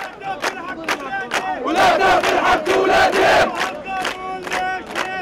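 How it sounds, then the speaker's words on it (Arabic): Crowd of protesters at a sit-in in Ramallah chanting slogans in unison, loud and close, with rhythmic shouted phrases repeating throughout. "المعتصمون رددوا هتافات ورفعوا شعارات"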